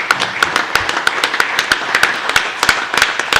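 Hand clapping rings out in a city council meeting chamber: sharp, evenly spaced claps in a steady rhythm, fairly close and loud, with no talk over them.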